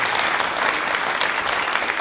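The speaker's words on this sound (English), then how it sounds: "So how about a round of applause for Coach Dravis and her" A dense round of applause from a crowd at a high school hall of fame induction ceremony, steady and even throughout with no voices over it.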